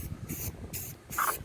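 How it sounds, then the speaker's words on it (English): A spray paint can sprays primer onto a car in short hissing bursts, three or four close, crisp blasts separated by brief gaps. "I'm spraying it right on here,"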